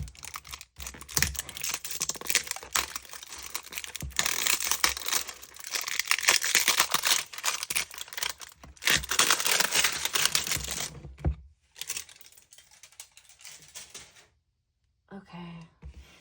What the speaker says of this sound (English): Let's go ahead and take this baby open and see how it looks.